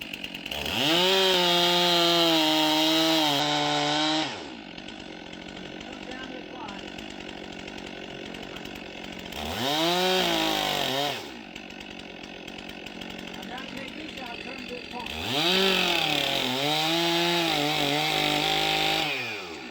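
A chainsaw cuts a notch into a tree in three loud bursts, each revving up and then dropping back to a quieter idle between cuts.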